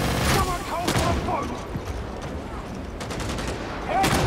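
Bursts of gunfire from a Warhammer shooter video game, rapid volleys at the start and again near the end, with quieter shots in between and voices talking over the action.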